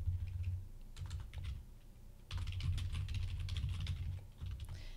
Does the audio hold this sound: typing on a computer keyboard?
yes